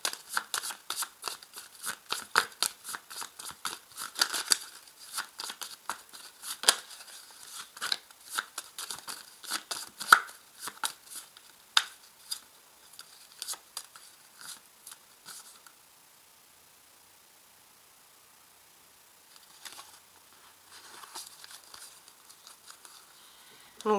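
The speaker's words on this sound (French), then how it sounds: "j'ai pris 5 cartes que je vais également remuer entre elles" Tarot cards being placed and shuffled together by hand, a long run of crisp, close snapping and riffling taps in irregular bursts, pausing briefly before a few more soft card sounds.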